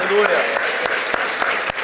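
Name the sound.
applause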